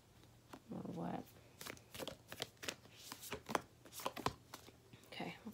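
Tarot cards being shuffled by hand, a run of quick riffling and slapping bursts with a soft crinkly texture, close and fairly quiet, with no talking.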